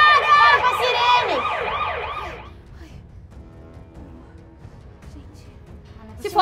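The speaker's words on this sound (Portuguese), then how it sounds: "Já desliga a sirene!" A loud, rapidly warbling electronic siren wails for about two and a half seconds, then cuts off, leaving quiet background noise.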